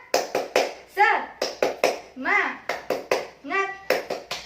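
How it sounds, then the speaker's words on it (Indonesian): Children in a classroom clapping the 'tepuk semangat' chant rhythm, sharp hand claps in quick patterned bursts with children's voices chanting between them, close and clear. "1, 2, 3. Tepuk semangat."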